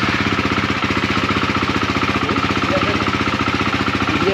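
A Yamaha RX135 motorcycle engine runs with a steady, rapid mechanical chatter and pulsing exhaust throughout, loud and close, with no pause or change in pace.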